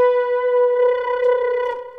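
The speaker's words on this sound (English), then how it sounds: "So when I press down with my right thumb, it adds like this distortion" A Roland Aerophone Pro AE-30 wind synth plays a steady sustained tone, and pressing its thumb pad brings in a distortion effect that roughens the note. The tone is close and loud, with no talking.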